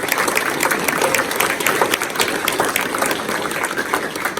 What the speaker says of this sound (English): please all give the candidates a round of applause and appreciation